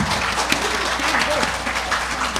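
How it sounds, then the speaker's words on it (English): Applause from an audience after children perform at a Hanuman pooja celebration, a continuous dense patter filling the room with faint voices and cheers mixed in. "One more round of applause."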